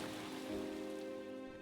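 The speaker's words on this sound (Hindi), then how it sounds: "वैसे इस बार बरसात बहुत जल्दी होने लगी है।" Steady rain falls continuously, a soft even patter and hiss on a surface with no voices, the downpour of an early monsoon season in a rural farming village.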